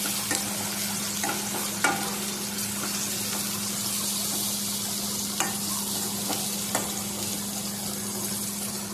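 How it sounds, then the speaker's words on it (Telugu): Spiny gourd curry with turmeric and salt sizzles in a pan while it is stirred, a constant frying hiss with faint scrapes of the spoon every so often and a low steady hum beneath. "తర్వాత కొంచెం పసుపు, కొంచెం ఉప్పు వేసి మంచిగా కలుపుకోవాలి."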